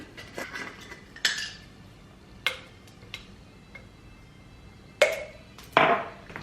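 Glass spice jars with brass lids are handled on a hard surface, giving sharp, bright clinks: a few separate knocks spaced over several seconds, close and fairly crisp, with a pair of louder clanks near the end.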